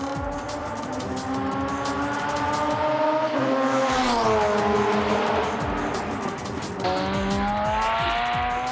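A tuned race car laps a Japanese circuit, its engine loud and near, climbing in pitch through the gears with sharp shifts, briefly dropping off before revving hard again, with a hint of tire noise.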